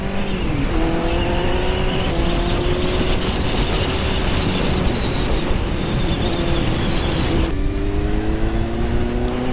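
A Kawasaki Z four-cylinder motorcycle pulls hard out of a roundabout, its loud, close engine note climbing steadily for several seconds before a quick gear change and a fresh rise near the end.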